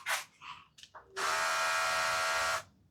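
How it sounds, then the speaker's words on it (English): A brief hiss and click, then a Parkside 4V cordless pressure sprayer whirring and hissing a very fine spray for just over a second before cutting off. "Very fine spray."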